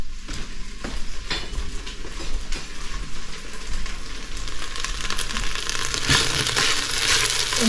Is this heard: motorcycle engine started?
no